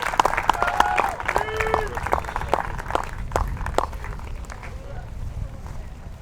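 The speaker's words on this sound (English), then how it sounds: "I want you guys to have a big applaud for Jennifer." A crowd applauds a player at the 2025 Masters Worlds tournament final, with dense, steady clapping throughout and voices talking over it.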